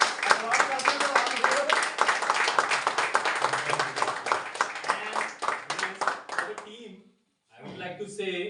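An audience at a Hindi theatre play breaks into sustained, dense clapping that fills the hall, with a voice speaking over it, then fades to a brief silence before talk resumes.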